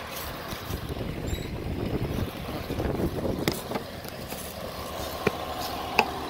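Strong outdoor wind gusts and rumbles against the microphone, swelling and easing in blustery waves, with a few sharp knocks and clicks near the end and no speech.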